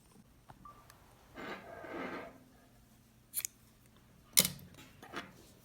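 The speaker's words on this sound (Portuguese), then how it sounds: "Agora, você vai cortar esse fio aqui." Scissors snip crochet thread at the end of a wine bottle holder, a soft rustle of handling followed by two or three crisp, close metallic cuts, with no speech.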